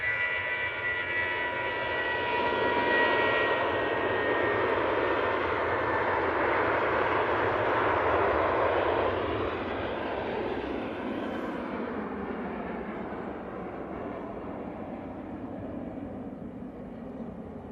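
An orange easyJet airliner taxis at Manchester Airport, departing for Jersey, its jet engines giving a steady, broad roar that swells slightly and then eases as it moves off, heard alone without talk.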